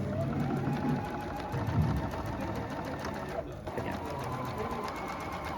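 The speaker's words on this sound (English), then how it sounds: "He's going to sew all the way down the bottom." A sewing machine stitches a seam along the bottom of a fabric bag, a continuous rapid whirring hum close by that pauses briefly partway through and then resumes.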